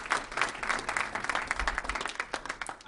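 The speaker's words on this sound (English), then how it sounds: "If we can give him a round of applause." A round of applause from the audience at a sales training session, quick dense clapping at moderate volume lasting about three seconds.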